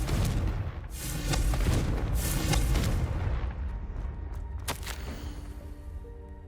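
Hogwarts Legacy's Confringo fire spell bursts in a string of loud, booming blasts that roll and fade, followed by sharper crackling pops toward the end.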